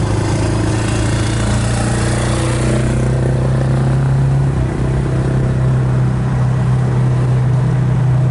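A 1965 Ford Mustang convertible's engine hums steadily from inside the cabin while driving in second gear, a continuous even drone with mild mechanical clatter and no talk.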